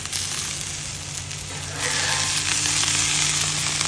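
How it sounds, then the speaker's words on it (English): Green peppers, onions, mushrooms and Italian sausage sizzle on a Blackstone griddle, a loud, close, steady frying hiss that swells a little louder partway through, with no talk. "cooked green peppers, onions, cut up some mushrooms, and Italian sausage. So here they are, cooking on the grill."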